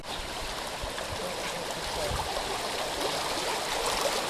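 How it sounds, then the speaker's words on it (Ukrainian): Rainwater rushes as a steady stream through a village street after heavy rain, a continuous broadband wash of flowing water that stays even and fairly loud throughout. "Потік води місцеві жителі знімали на відеокамери."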